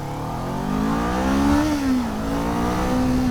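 A 2023 Kawasaki Z400 motorcycle revs up steadily, pitch rising and dipping as it accelerates past at close range, loud and continuous with no voices.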